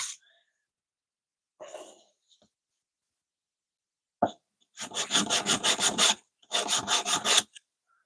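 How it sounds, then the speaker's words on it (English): Two bursts of rhythmic rasping strokes as a wooden spoon is sanded, close and fairly loud, after a few faint scrapes and a short knock. "I'm getting there with the spoon, I'm nearly finished sanding it."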